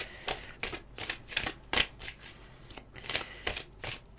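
Tarot cards are shuffled by hand up close, with a rapid run of riffling flutters and papery slaps in irregular bursts, fairly quiet and without talk.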